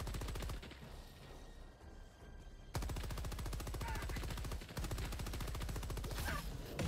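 Rapid automatic gunfire in Helldivers 2, a long loud stream of evenly spaced shots that stops briefly and then starts again, with light background effects underneath.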